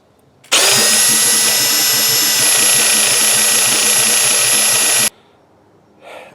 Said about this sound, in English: I had the drill going the wrong way